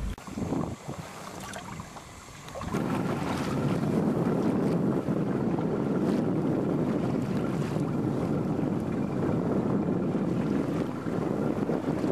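Small boat approaching across the sea of a bay during cod fishing, a steady broad engine and hull rumble with water wash that rises and holds continuously, mixed with heavy wind buffeting on the microphone and no talk.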